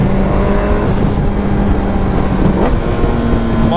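A nitro-equipped motorcycle accelerates loudly and close up, its engine tone climbing and then dropping before rising again as it revs.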